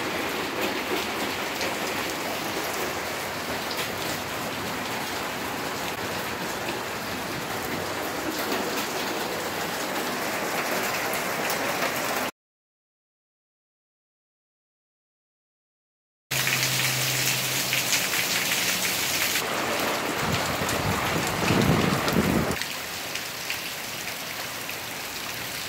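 Heavy rain from Hurricane Gordon pours down steadily in a dense, hissing wash, drumming near and loud on a van and its surroundings, broken by a brief silent gap partway through.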